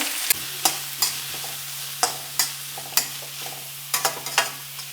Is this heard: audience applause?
no